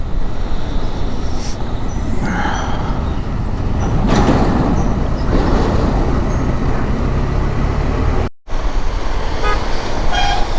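Motorcycle cruising in highway traffic, a loud constant rush of wind and engine roar up close, with passing vehicles and a horn toot sounding briefly over it.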